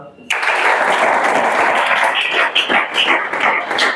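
Clapping from a room of students in a police recruitment exam coaching class, a dense burst of many hands starting sharply and continuing loud and steady for several seconds.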